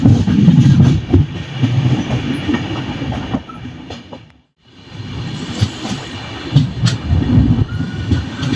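An express train on the Veraval–Thiruvananthapuram route rumbles past a crossing train and a goods train, heavy rolling clatter and wheel noise close by, dropping briefly to near silence midway before the roar resumes.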